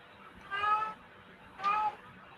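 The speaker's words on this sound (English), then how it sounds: "Yeah, that's my cat." A pet cat meows twice, two short, fairly clear calls a second apart over a quiet room background.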